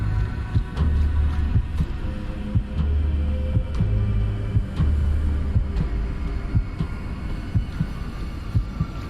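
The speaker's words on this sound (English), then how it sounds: "Hear a heart beating." In the video game Minute of Islands, a steady, low heartbeat thumps in a regular rhythm beneath a constant humming drone and ambient music, loud and close, with no speech.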